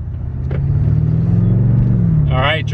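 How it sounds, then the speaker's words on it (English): 2020 BMW M8 Competition engine accelerating, a close, loud low-pitched drone building steadily, with a brief voice at the end. "driving the M8 competition"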